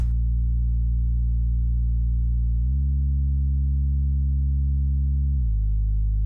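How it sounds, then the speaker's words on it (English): A steady, pure monophonic sine bass in a liquid drum and bass line holds one low note, then glides smoothly up to a higher note and later glides back down, with no other sounds. "whatever note is playing next in our bass line, it will glide down or up to it."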